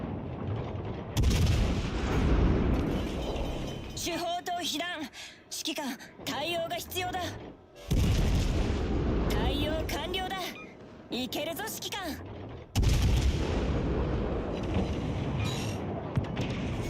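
Naval artillery fire in the World of Warships Legends game, heavy booming salvos repeating in bursts while a voice talks excitedly between them.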